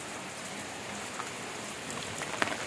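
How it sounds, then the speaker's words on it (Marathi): Steady monsoon rain pours down outdoors in a constant, even hiss, with a few brief drop spatters near the end; no voices. "मंडई पावसाची खूप वेळ वाट बघितली पण पाऊस काही थांबलेला नाही"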